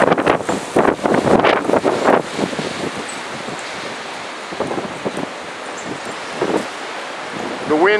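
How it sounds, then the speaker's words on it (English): Violent December windstorm gusts in Walla Walla, Washington, roaring and buffeting the microphone in strong bursts early on, then easing into a steadier rushing blow with occasional surges, someone talking over it. "But this is a windstorm from hell, 2014."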